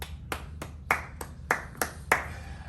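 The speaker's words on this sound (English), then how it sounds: "let me clap for you" Slow hand clapping, about eight single claps spaced roughly every third of a second, each a crisp close-up slap ringing over a low background hum.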